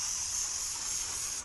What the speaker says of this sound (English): Brake parts cleaner.